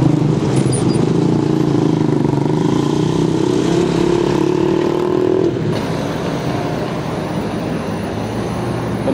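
Motorcycles ride into a crossroads at night in Fresnillo, Zacatecas, their engines droning amid steady traffic noise, louder for the first half, then easing off.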